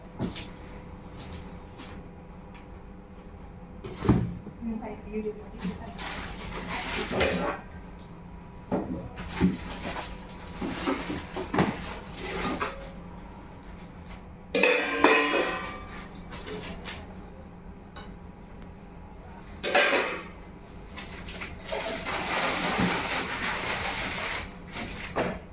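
Scattered knocks, clunks and scrapes of a large metal pressure cooker being handled, separated by quiet pauses, with a faint voice in the background.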